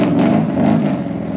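A 1955 Chevy Gasser's engine revs steadily up close, a loud, continuous low rumble with slight swells in pitch as the car is driven around a yard.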